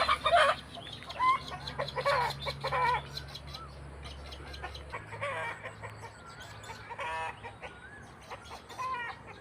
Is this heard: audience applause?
no